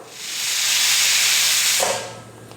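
A pressure cooker cooking tomatoes vents steam in a loud, steady hiss that swells, holds for about a second and a half, then fades away, with no other sounds around it.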